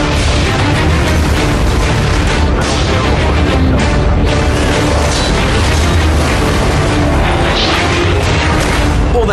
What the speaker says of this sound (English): Oh, explosions.